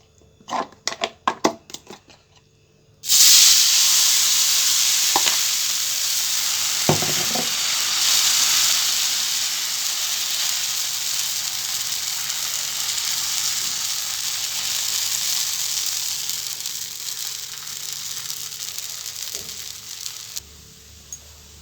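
Food sizzles loudly in a hot oiled pan, a dense continuous hiss that begins abruptly after a few clattering taps and holds steady before cutting off near the end.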